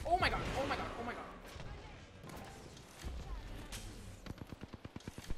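Gunfire from the video game Apex Legends, scattered shots early on and a rapid rhythmic burst of automatic fire near the end, heard under a player's excited talking.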